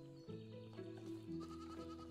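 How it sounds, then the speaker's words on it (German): A goat in the video game Medieval Dynasty bleats with a wavering, nasal call over a steady background music drone, fairly quiet and without talk. "Hallo, du Ziege."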